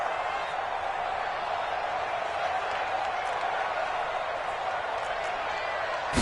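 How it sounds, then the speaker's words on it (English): A stadium crowd roars in a football video game on PS4, a steady, even wash of cheering noise that runs the whole way under faint commentary. "The crowd getting into it as we come up on a big 3rd down."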